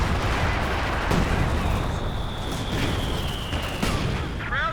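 Artillery fire in the World War II strategy game Company of Heroes 2 during a large 4v4 battle, dense continuous rumbling booms and gunfire layered together, loud and sustained with faint talk underneath.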